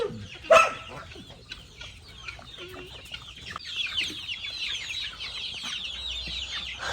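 Chickens cluck around a Kerala homestead where guinea fowl and rabbits also roam, a sharp near squawk early on followed by steady overlapping clucks and bird chatter at moderate volume, with no talking.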